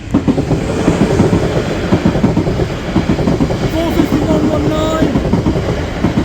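A Cross Country train passing Liss Common level crossing, giving a loud, close, steady rumble with a rhythmic clickety-clack of wheels over the rail joints throughout.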